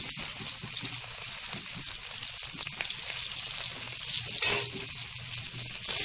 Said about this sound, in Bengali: যাকে এবার কড়াইতে ফ্রাই করা হবে। তার জন্য কড়াইতে দেওয়া হলো তেল, তার মধ্যে রসুন